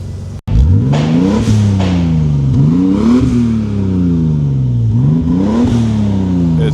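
A BMW E24 with a swapped-in B58 engine is revved repeatedly up and down in several smooth rising and falling sweeps. It sounds close and loud, with no talking.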